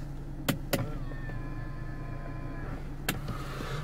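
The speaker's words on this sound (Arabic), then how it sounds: "الزجاج كهربائي، المرايا كهربائية، واكيد فيها خاصية الطي" Power windows and mirrors of a Renault Talisman operating inside the car, a whirring electric motor hum running for a few seconds, marked by sharp clicks of switches near the start and another later.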